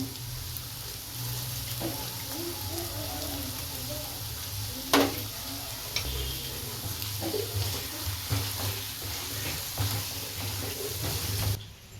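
Ghee chicken roast gravy is stirred in a pan, with a soft continuous sizzle and occasional scraping knocks of the spoon, close and moderately quiet with no talk.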